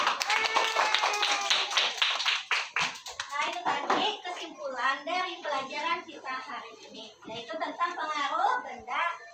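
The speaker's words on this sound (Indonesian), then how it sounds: "Iya, tepuk tangan untuk Tripa." Children in a primary-school science class clap for a classmate, a burst of close hand claps under lively kids' chatter and laughter that continue after the clapping fades.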